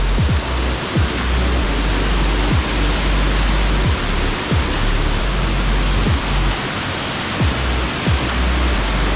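Water from an overflowing pond spills over a waterfall at Thonippara, a steady close broadband rush with low-end thumps throughout, no voices.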